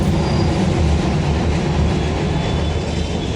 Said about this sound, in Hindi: पीछे आप देख रहे हो मेट्रो जा रही है